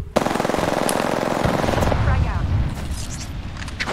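Rapid automatic gunfire in Apex Legends, a dense burst of close, loud shots rattling for a couple of seconds before tapering into scattered distant shots, with a voice talking over part of it.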